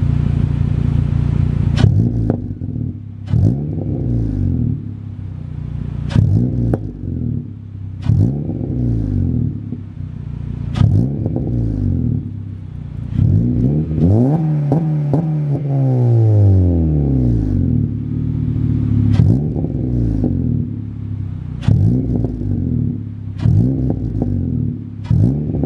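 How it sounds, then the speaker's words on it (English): A 9th-generation Honda Civic Si engine revs repeatedly through its exhaust, sharp throaty blips rising and falling over a steady deep idle, with one longer climbing rev midway. "Hope you guys enjoyed that little sound clip of the car."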